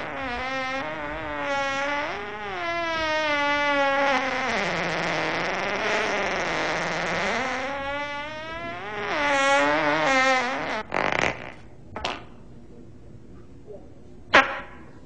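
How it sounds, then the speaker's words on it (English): A long, loud, drawn-out fart rumbles and wavers in pitch for about ten seconds, close by, followed by a few short rustles and clicks in a quiet room. "Was that a fart?"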